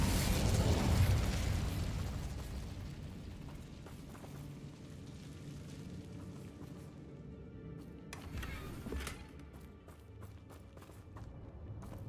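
An Incendio fire spell cast in Hogwarts Legacy erupts in a loud, whooshing burst at the start, then fades into crackling rumble, with a few sharper pops later.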